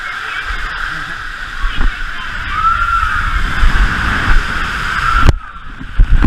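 Water rushes and splashes against a wet GoPro camera on an amusement park ride, a loud, noisy wash of spray that cuts off abruptly near the end.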